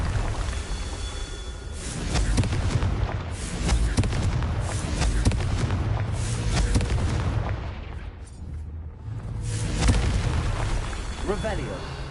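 Rumbling blasts from the Confringo blasting spell in Hogwarts Legacy, a run of loud, booming explosions with crackling debris that rise and fall in waves, one dense burst after another and no break of quiet between them.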